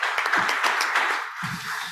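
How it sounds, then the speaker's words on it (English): Delegates at a legal conference on the digital economy applaud a country presentation, a short burst of dense clapping that thins into a few claps with some murmuring at the close. "round of applause, yes."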